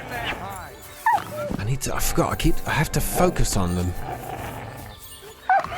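A dog in the medieval action RPG Kingdom Come: Deliverance 2 yelps and whimpers amid combat clatter, its cries mixed under a loud voice speaking over the scene.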